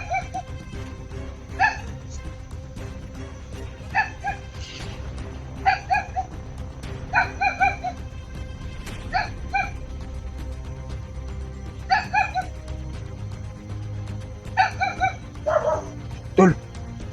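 Guard dogs near a hidden camp bark in repeated short volleys spaced a couple of seconds apart, moderately close, with a whimpering yip near the end over a low background hum.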